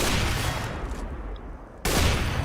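Video game gunfire in a solo co-op mission, with a brief burst of rapid shots, a short quieter gap, then another sharp burst of fire.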